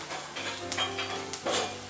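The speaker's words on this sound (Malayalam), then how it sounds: "കടുക് വറുക്കുന്ന കൂട്ടത്തിൽ നമുക്ക് കടലപ്പരിപ്പോ ഉഴുന്നോ ഒക്കെ ചേർത്ത് വേണമെങ്കിൽ വറുത്തെടുക്കാം" Mustard seeds fry in hot oil with chana dal or urad dal for rava upma, giving faint, scattered crackles and pops over a low sizzle, with no talking.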